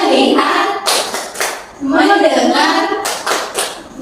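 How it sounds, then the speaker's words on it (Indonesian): Children in a primary-school classroom clap a rhythmic focus clap in short bursts of patterned beats, chanting words together between and over the claps. "Tepuk fokus."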